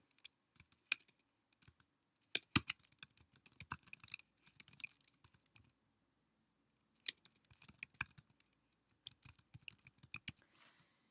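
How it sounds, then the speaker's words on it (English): Computer keyboard keys are tapped out in short bursts of quick, light clicks while an announcement is typed, separated by silent pauses, close and quiet with no voices. "I can click here and type in my announcement"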